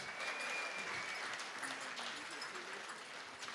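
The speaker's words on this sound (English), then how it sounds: "Put your hands together." Audience applause at a rodeo hall of fame induction banquet, a sustained, even round of clapping from a seated crowd with faint voices underneath.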